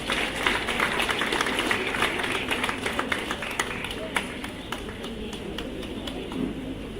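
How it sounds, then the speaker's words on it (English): Audience applause for a debate team at an army school's national-level English debate awards ceremony: dense, sustained clapping from a crowd, moderately loud and continuous. "Let's give them a huge round of applause."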